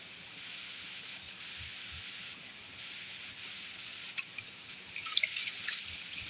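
Stingray fish pieces are washed with salt in water, heard as soft, close splashing and trickling with a few sharper drips and small knocks near the end, faint and without speech.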